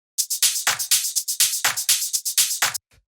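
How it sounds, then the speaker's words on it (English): Crisp electronic hi-hat with a high-pass filter in a melodic house groove, short bright ticks falling regularly on the upbeats with quick alternating strokes, dry and close, no other instruments or voices. "So you can see we have this hi-hat just playing on the upbeats"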